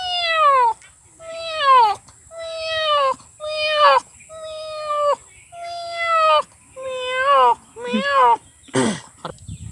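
A man imitates a cat's meow with his voice, giving about nine drawn-out, wavering meows in a steady rhythm, each clear and close with short pauses between.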